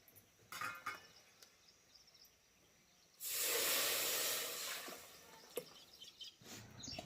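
Eggplant and gram flour (pitla vangi) sizzle in a pan. A steady hiss swells for a few seconds as it is stirred and roasted, with quieter scraping before and after.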